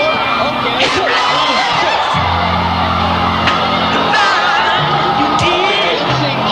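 Arena crowd in a boxing video game cheering and yelling as Roy Jones lands punches, a loud sustained roar with whoops, under a commentator's voice.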